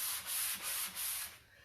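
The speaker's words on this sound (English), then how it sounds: "Literally a single pass with a sanding sponge." A sanding sponge is brushed lightly across a painted furniture piece in a single pass, making a soft, steady rasping rub that swells and fades in several close strokes before trailing off.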